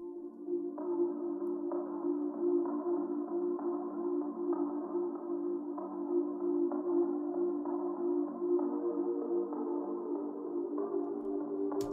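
A processed Embrace percussion and pad sound from Arcade's Honey Bank plays as a steady, warm sustained pad with faint rhythmic percussive ticks pulsing through it. It runs evenly at moderate volume with no voices.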